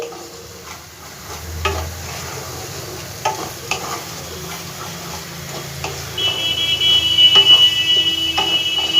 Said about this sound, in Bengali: মশলাটাকে ভালো করে একটু ভেজে নেব